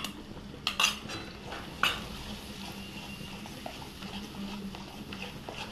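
Yogurt is stirred into mixed vegetables (carrot, potato, cauliflower, capsicum, paneer) in a pan over lowered heat, with a low simmer under soft scraping and two distinct utensil clanks near the start, no voices.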